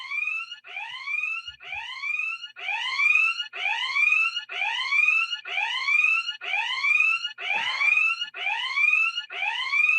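A klaxon-style alarm blares in a repeating pattern of rising, swooping whoops, about eleven loud cycles back to back, with no talk over it.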